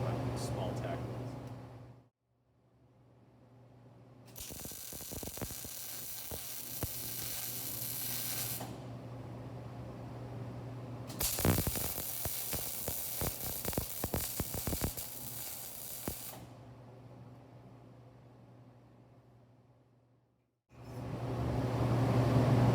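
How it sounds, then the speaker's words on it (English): A MIG (GMAW) welder lays roughly one-inch stitch weld beads over small tacks, giving two long bursts of steady crackling hiss with quiet pauses between them, close and loud with no talking. "I'm going to come back with what I call stitch welds. So I'm going to do about a 1-inch long weld bead on this end and on this end."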